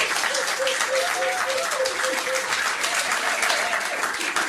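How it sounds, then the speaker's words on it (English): An audience at a pub trivia quiz at The Granta gives a sustained burst of dense clapping, with a voice carrying briefly over the applause. "Give them a round of applause."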